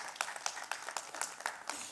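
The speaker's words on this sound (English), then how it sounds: "A big applause to each one of you again" Audience applause from a crowd of about 400 people at a share-market seminar, a steady mass of dense clapping with a few louder bursts, moderately distant and continuous throughout, with no voices.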